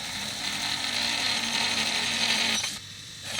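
ARROWMAX SDS Ultra Plus mini electric drill whirring steadily at speed setting 900, a close high-pitched motor whine that cuts off sharply near the end.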